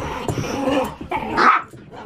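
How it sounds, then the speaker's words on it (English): Two dogs wrestling and playing at home, growling, yipping and barking in close, rapid bursts with a sharp whimpering yelp near the end. "I have two dogs who just want to have some good old wrestling fun."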